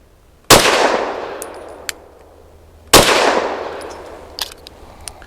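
Two loud, sharp gunshots from a Rost Martin RM1C pistol firing Norma 65 grain frangible range training ammunition, spaced about two and a half seconds apart, each with a ringing decay and faint clinks afterward.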